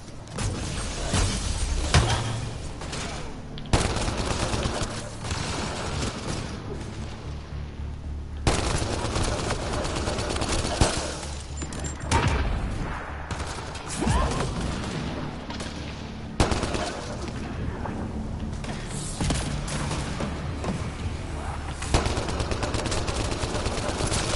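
Sustained gunfire from Mass Effect Andromeda rattles in dense automatic bursts and sharp single cracks, loud and close throughout a frantic firefight with crashing impacts.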